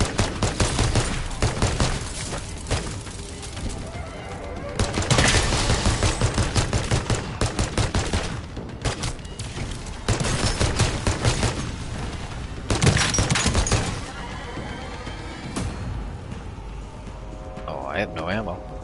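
Loud bursts of automatic gunfire from a weapon in Call of Duty Modern Warfare Zombies, several sustained volleys separated by short pauses, with a voice talking over parts of it.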